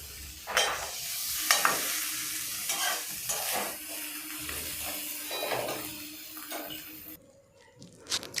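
Gima greens frying with onion in a kadai as a spatula stirs forcefully, rhythmic scraping strokes every second or so over a low sizzle, close and clear, falling quiet near the end, no speech.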